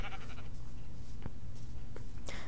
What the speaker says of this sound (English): we gotta kill these sheep for our bed.